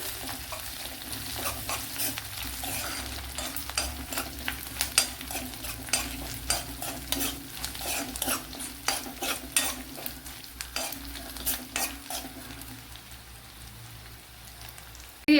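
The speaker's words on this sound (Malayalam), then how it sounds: "ഒരു കാൽ ടീസ്പൂൺ ജീരകം കൂടെ കാൽ ടീസ്പൂണാണ് ചെറിയ ജീരകമാണ് ചേർത്ത് കൊടുത്തത് ഇതിനെ നല്ലപോലെ ഒന്ന് മൂപ്പിച്ചെടുക്കണം" Quarter teaspoon of small cumin seeds roasting in oil in a pan for an egg dish, a steady close sizzle with scattered crackles and stirring clatters throughout, no talk.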